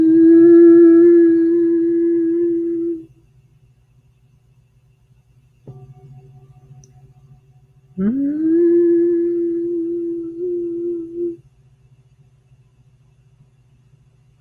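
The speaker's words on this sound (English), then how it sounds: "Let's allow our throat to hum." A group hums low, steady tones with the throat, holding one long note, a brief quiet pause, then a second sustained hum that slides up into pitch, over a faint low background drone.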